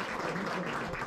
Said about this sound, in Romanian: Pe locul 7, aplauze vă rog pentru Bogdan Grigorie și Lucian Grigorie.